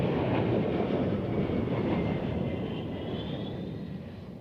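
A modified Embraer business jet lands in crosswinds at Zurich Airport, its loud, steady broadband roar filling the scene and fading slightly toward the end.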